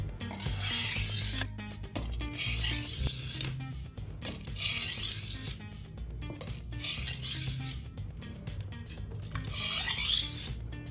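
Kitchen knife drawn along a whetstone with a sharpening guide, a steady, close rasping scrape repeating in even strokes roughly every two seconds, no talk.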